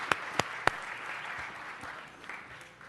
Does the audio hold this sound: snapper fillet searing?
no